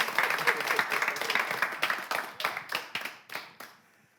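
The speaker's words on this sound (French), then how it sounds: "Vous avez besoin d'applaudissements?" Studio audience clapping on a French quiz show, brisk near applause that thins into a few separate claps and then dies out.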